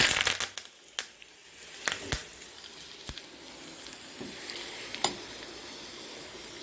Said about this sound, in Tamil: இதில் கடுகு உளுந்த பருப்பு சேர்த்துக்கலாம் இப்போ நல்லா பொரிஞ்சிடுச்சு